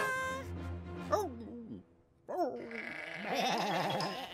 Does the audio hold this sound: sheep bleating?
yes